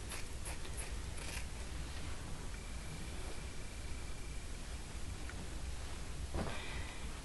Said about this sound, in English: feed the fabric into the scissor